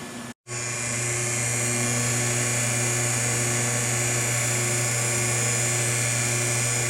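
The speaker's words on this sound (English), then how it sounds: "The blower is spinning in there." GAST rotary vane pump blower spinning with a constant high mechanical whine and steady hum, loud and close, interrupted only by a brief dropout near the start.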